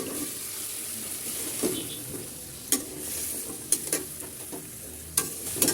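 Moringa drumsticks and potatoes are sautéed in a spice paste loosened with a little water, giving a faint, low hiss of frying broken by a few sharp clacks of a spatula against the pan.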